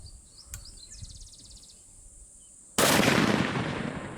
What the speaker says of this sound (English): Just shoot him 3 inches in front of that.